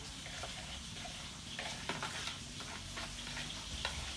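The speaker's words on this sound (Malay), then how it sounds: "kita gaulkan sehingga sebati dan sekata macam ni, ya" A mixture with brown sugar is stirred in a pan, producing a soft continuous hiss and faint, repeated scraping strokes at low volume, with no voices.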